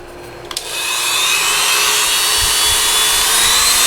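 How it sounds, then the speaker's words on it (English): A Dremel rotary tool trims a plastic headlight part for a 1998-2002 Honda Accord retrofit, a few short bursts then a loud, steady high whine with grinding, close up. "So we need to trim that down with the Dremel."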